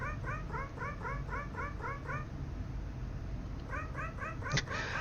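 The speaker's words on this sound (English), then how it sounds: "cat sounds whenever he talks" Short, repeated cat meows come in quick rhythmic bursts as a video game character in Nightmare of Decay talks, pausing briefly before another run of chirpy mews over a low, steady background hum.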